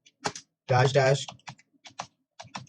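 Keys click on a computer keyboard as a terminal command is typed in Kali Linux, with short, quick taps in uneven bursts while someone talks over them.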